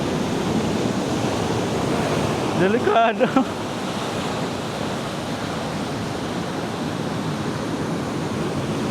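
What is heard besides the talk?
ocean waves crashing on rocky beach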